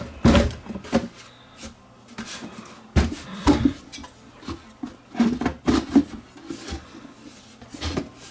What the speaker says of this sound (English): Just slide the back cabinet onto it.